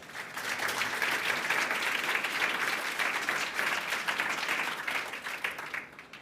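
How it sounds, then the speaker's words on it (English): An audience at an Art Basel talk claps steadily for the speakers, a dense, even wash of hands that holds for several seconds before tapering off. "Please do help me give our speakers a round of applause"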